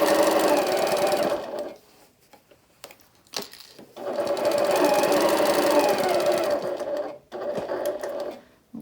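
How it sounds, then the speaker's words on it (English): A sewing machine stitches a laptop bag's exterior panel in two long, steady whirring runs, separated by a short pause with faint handling clicks, then stops briefly near the end. "Now I'm going to sew down towards the bottom."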